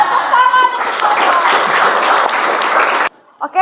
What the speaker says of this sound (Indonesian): Ya, tepuk tangan untuk Noval.